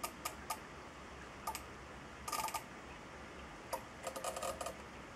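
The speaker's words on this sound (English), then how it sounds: "I don't know if you can hear the relays clicking exactly." Relays in a model railroad automatic block signal system click quietly, giving scattered single ticks and short rattling clusters against a soft, steady background hiss.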